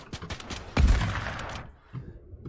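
Gunfire in a video game, a loud burst with a heavy blast near the start that decays into a rattling tail, followed by quieter sporadic shots.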